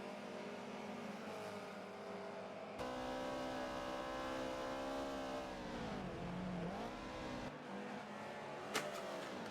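Cool Drive 86 race car sliding sideways in a racing game, its engine holding a loud sustained drone that dips and rises in pitch as the car slides, with a brief sharp transient near the end.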